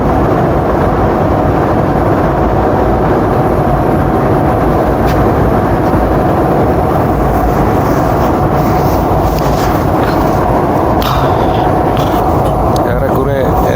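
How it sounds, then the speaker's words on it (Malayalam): Loud, steady low roar of an airplane cabin on descent toward landing on a Calicut to Mumbai flight, with broadband engine and air rumble throughout and faint voices under it. "വിമാനം താഴ്ന്നുകൊണ്ടേയിരിക്കുന്നു"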